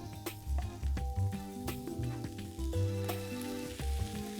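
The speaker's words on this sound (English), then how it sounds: "Lovely sizzle." Hake and pepper kebabs topped with melted feta and lemon juice sizzle on a grill, a moderate crackling hiss under sharp clicks and clinks, with no talking.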